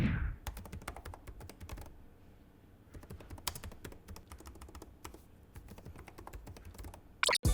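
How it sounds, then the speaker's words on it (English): Rapid, clicky typing on a Lenovo Legion 5 Pro gaming laptop keyboard in bursts, with short pauses between runs of keystrokes, close and fairly quiet. "Here's a sound test of the keyboard."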